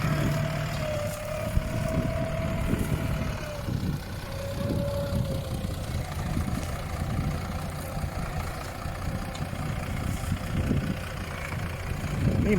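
A six-cylinder Power Star engine in a 7840 tractor runs at a steady, low, rumbling idle, moderately loud and continuous throughout.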